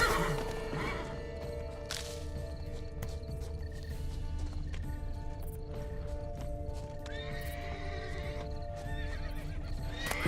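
A horse in The Witcher 3 video game snorts and whinnies while hooves clip-clop steadily nearby, with an ongoing tonal game soundscape underneath.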